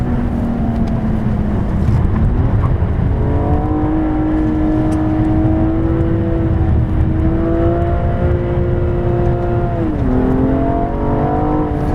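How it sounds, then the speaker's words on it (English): A 2014 BMW M235i on a racetrack at Las Vegas Speedway, its engine revving hard and repeatedly bouncing off the rev limiter, with steady loud harmonic drone rising and dipping through shifts and no talk over it. "Car revs quite quickly. I seem to be bumping up against the rev limiter."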